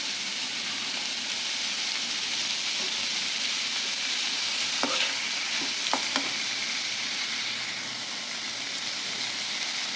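Onions and curry leaves sautéing in hot oil for a prawn gravy, a steady broad sizzle throughout with a few faint clinks of a utensil near the middle, no talking.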